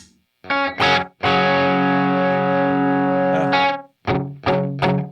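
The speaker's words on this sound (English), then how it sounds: "Clean tone." Clean-tone electric guitar played through an effects pedal, with a few short plucked notes, one long sustained chord ringing for a couple of seconds, then more short strums, loud and close with no talking.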